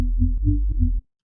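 Deep, smooth synthesized liquid drum and bass bassline recreated in Serum, a rounded sine-like tone pulsing in three short notes before cutting off abruptly, played alone.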